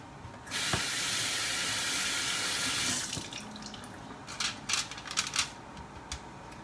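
Salmon fillet rinsed under a running kitchen faucet: a steady close rush of water for a few seconds, then the tap shuts off, followed by scattered light clicks and handling sounds near the sink.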